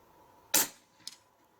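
Hatsan Factor RC .22 PCP air rifle firing a single shot outdoors, one sharp, loud crack with a short decay, followed about half a second later by a fainter metallic tick of the pellet striking a target.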